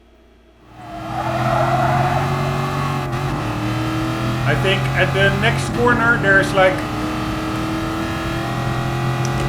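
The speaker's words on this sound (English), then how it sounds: "let's check out if we can do donuts in this" Car engine in Gran Turismo Sport revving and surging through repeated bursts as the car spins donuts, a steady hum underneath, with someone talking over it.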